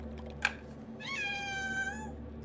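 A house cat lets out one long, drawn-out meow, rising and then wavering, heard close over a steady low room hum, just after a brief sharp click.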